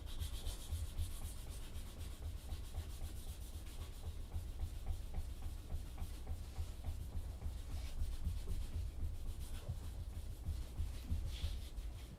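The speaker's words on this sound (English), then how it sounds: "So one thing about using the micro-mesh for polishing is you do not have to use a lot of pressure" Micro-mesh abrasive strip rubbed steadily along guitar frets for polishing, a continuous soft scratchy sanding hiss with light back-and-forth strokes, close and even throughout with no talking.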